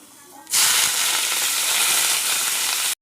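Chopped onion hits hot oil with black and white cumin, setting off a sudden loud sizzle that stays steady and close for a few seconds, then cuts off.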